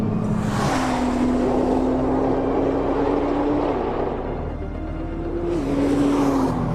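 A Nissan GT-R Track Edition drives with a steady engine drone and road roar, the pitch climbing, dropping at a quick paddle shift, then rising again. No one speaks.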